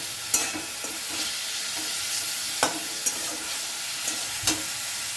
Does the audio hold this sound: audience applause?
no